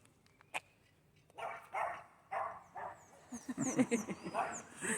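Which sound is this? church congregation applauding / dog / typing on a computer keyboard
dog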